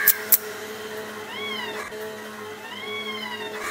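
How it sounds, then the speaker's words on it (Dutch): A cat meows twice in drawn-out, rising-and-falling calls on a street in India, close and clear over a low steady background hum, with two sharp clicks at the start. "Deze kat heeft echt het schattigste miauwtje ooit"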